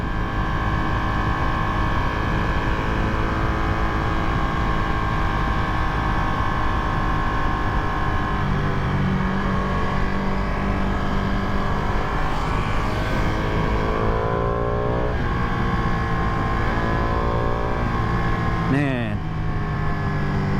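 A Ducati Panigale V2 engine drones loud and continuous while riding on a new, unscrubbed larger tire, its pitch climbing and dropping through gear changes with a sharp rev rise near the end, wind roar throughout.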